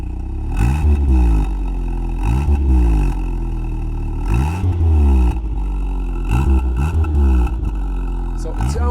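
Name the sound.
1.8 litre petrol car engine revving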